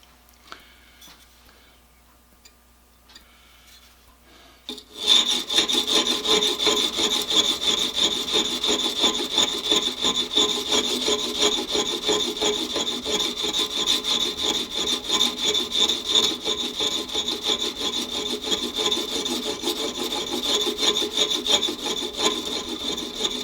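A blade edge is sharpened on a stone held in a fixture, producing a continuous close, gritty rasping scrape with steady rhythmic strokes that starts after a few quiet seconds and continues throughout.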